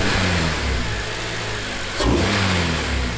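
Engine of a 2006 Honda Civic Si with a newly installed header and rear motor mount revs loudly and steadily nearby, swelling into a sharper rev burst around the two-second mark before settling back to a sustained drone.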